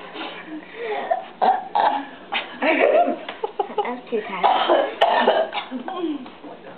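A young boy lets out a string of short, abrupt burps, close and loud, mixed with adults talking and laughing around him.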